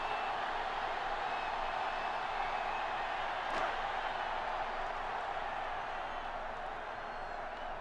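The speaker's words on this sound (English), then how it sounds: "Crowd not happy." A stadium crowd in the NCAA Football 06 video game makes a steady, distant roar and murmur. It holds at an even, moderate level throughout, with no distinct cheers rising out of it.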